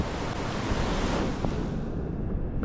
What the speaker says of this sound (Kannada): ಎಷ್ಟು ನೀರು ಎಷ್ಟು ಸ್ಪೀಡಾಗಿ ಹೋಗ್ತಿದೆ ಅಂತ